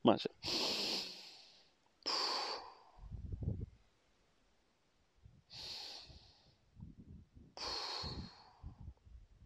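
Slow inhaling and exhaling during a gentle body exercise, heard as several long, soft breaths close to the microphone with quiet pauses and low murmurs in between.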